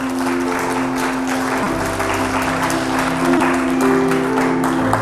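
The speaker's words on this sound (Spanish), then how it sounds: "Dele un aplauso al Señor." A church congregation applauds to praise the Lord at the close of a sermon, a continuous wash of clapping with a low sustained tone beneath, steady and moderately loud.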